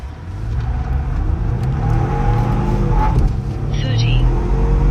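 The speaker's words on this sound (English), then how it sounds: "Let's see how it accelerates to 60." A 2024 Ford F150 with a 3.5-liter engine and port and direct injection accelerates hard from a standstill to 60. The engine drone rises steadily inside the cab alongside road and wind noise.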